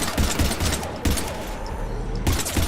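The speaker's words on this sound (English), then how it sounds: "We're almost to the Normandy. I've got Lieutenant Vega with me, but we're taking heavy fire." Heavy gunfire in a Mass Effect 3 battle against Husks: loud bursts of automatic fire crackle near the start, around the one-second mark and again near the end, over a steady roar of combat.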